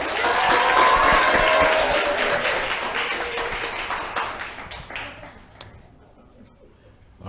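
Audience applause at a creative writing showcase, loud and sustained crowd clapping with a few chuckles, gradually thinning out and fading to near silence before a final burst at the end.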